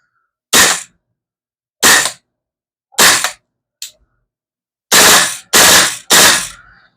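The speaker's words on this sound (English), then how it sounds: "we'll do a couple of shots here just to show you how good the recoil of this is" Seven sharp shots from a VFC M733 airsoft replica rifle with strong recoil, fired singly at irregular intervals, with a close, crisp crack on each and a brief tail, and no talking.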